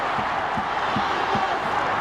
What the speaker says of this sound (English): The crowd trying to get the team over the line